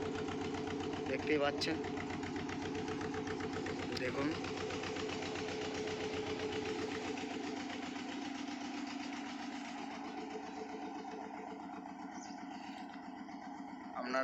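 Motor boat engine chugging steadily on a river between jungle-lined banks, a continuous mid-pitched drone with rhythmic pulsing throughout, while someone talks over it.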